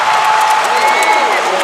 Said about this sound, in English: Crowd coming alive here, they smell the comeback.